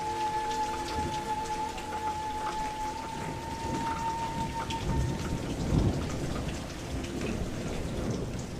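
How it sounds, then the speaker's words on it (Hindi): Rain and thunder in an animated jungle story: a steady hiss of heavy rainfall with low rumbling thunder swelling midway, and a faint tone drifting above the downpour. "पता नहीं बारिश कब रुके।"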